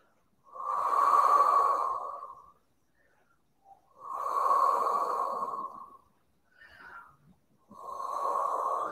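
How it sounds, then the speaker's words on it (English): Slow, deep breaths during a beginner stretching routine, loud and close, with long audible inhales and exhales and short quiet pauses between them. "just take 3 deep breaths there."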